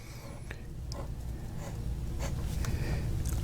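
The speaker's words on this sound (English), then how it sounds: "I'm writing over the camera, so it's hard to keep it at the right angle" A fountain pen nib scratching across paper in short strokes over a low background hum, soft and close with no talk.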